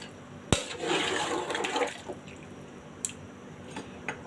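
Water poured into a pot of beef korma, a sharp splash onset followed by about a second and a half of pouring and bubbling, then faint drips and settling sounds in a quiet kitchen.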